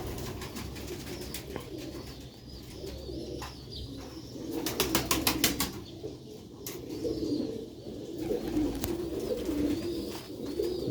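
Sialkoti pigeons in a loft coo in soft, repeated low calls, with a quick burst of wing flapping in the middle, all close by and without talk.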